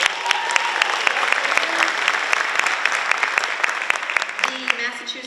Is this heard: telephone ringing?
no